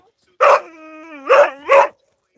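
A small dog, loose off leash on an Arizona trail, gives three sharp close barks joined by a whining yelp, loud against otherwise quiet surroundings.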